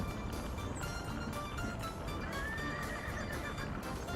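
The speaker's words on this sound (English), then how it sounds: "Man, that's a lot of stuck horses." Horses in a 1900-era coal-refining video game whinny and clip-clop steadily over a constant ambient bed, with neighs rising above the hoofbeats and no talk.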